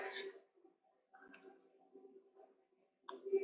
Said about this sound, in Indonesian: Terus diklik enter.